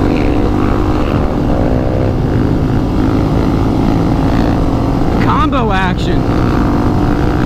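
Motorcycles revving loudly on a group ride, a dense continuous engine roar close by and filling the whole clip, with a voice talking over it briefly.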